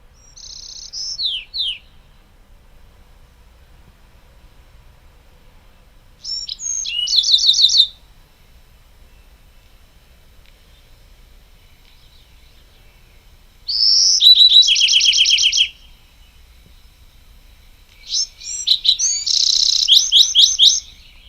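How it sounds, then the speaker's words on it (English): Wren song recorded in West Texas: four separate crisp bursts of rapid, clear high-pitched notes spaced several seconds apart, with silence in between and no talking. "So this is a wren that we have closer in West Texas."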